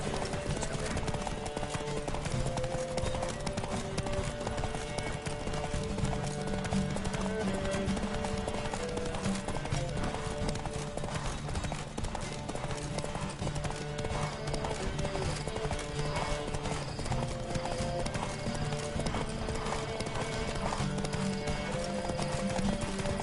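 Horse hooves pound in a fast, steady gallop during a horse race in The Witcher 3 video game, loud and continuous, with faint voices and music underneath.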